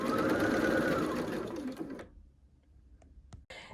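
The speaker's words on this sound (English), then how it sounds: "I'm going to string piece the rest of these." Sewing machine string piecing quilt triangles for a red, white and blue Lemoyne Star quilt: a steady close whirring stitch run for about two seconds, then the motor stops, followed by a few faint clicks and handling noises.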